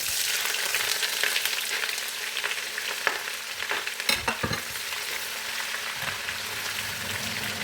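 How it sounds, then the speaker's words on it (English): Onions frying in a pan of groundnut oil and red oil, a steady close sizzle broken by scraping stirs from a utensil, with no voices. "So we are adding onions."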